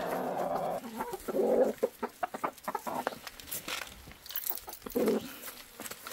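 Chickens cluck in short, repeated bursts at close range, with scattered rustling and other birds calling in the background.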